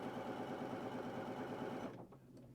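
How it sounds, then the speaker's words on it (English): A Janome Horizon Memory Craft 9480/9410 computerized sewing machine running a straight stitch through fabric, a steady close mechanical whir that winds down and stops near the end. "press the start button. And we're just doing a straight stitch here"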